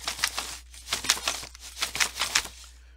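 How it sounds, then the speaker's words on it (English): Someone digs through a drawer looking for pen and paper, producing quick bursts of close, soft rustling and crinkling that come and go in short clusters. "I am digging in the drawer to get my pen"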